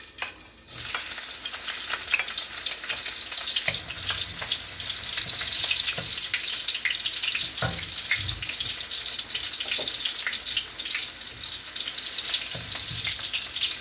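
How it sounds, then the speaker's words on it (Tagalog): Shrimp paste sautés in a pan with a bright, steady sizzle, broken by occasional scraping and stirring knocks, close up and without talking. "Yan, ginisa ng hipon."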